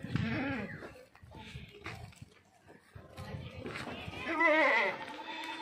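Goats, including Beetal goats, bleat close by on a goat farm in West Bengal, wavering cries rising over a busy background with people talking nearby.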